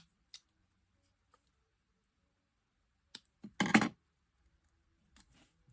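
Scissors cutting paper for an advent calendar craft, a few isolated clicks and one short snipping burst, close in an otherwise quiet room.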